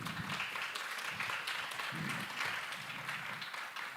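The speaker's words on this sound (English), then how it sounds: "Yes, clap again, please." Audience applause at an Indigenous knowledge systems dialogue event, a steady broadband patter of many hands clapping that holds at a fairly even level throughout, with no clear voices over it.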